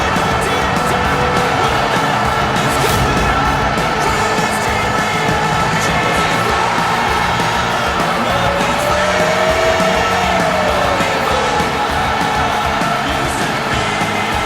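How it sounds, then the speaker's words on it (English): A wrestling crowd at an MPWF WAR show cheers continuously, a dense, loud, unbroken roar of voices filling the hall with steady intensity and a faint rising whistle-like tone partway through. "This crowd has not stopped cheering since the Future Foundation walked out here."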